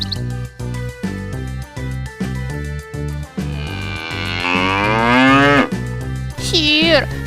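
A cow moos in an animated Kazakh fairy tale, a long, loud, drawn-out low call rising and falling, followed by a shorter second moo, over rhythmic musical backing.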